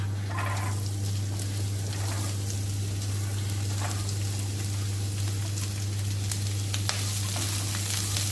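Vegetables sauté in a pan with garlic and green chillies for homemade masala pasta, giving a steady, close, dense sizzle and crackle throughout with occasional stirring scrapes and a constant low hum behind it, no voices.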